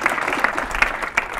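An audience at a lecture on pedestrian and bike systems claps after a speaker, a brief, steady patter of many hands filling the room.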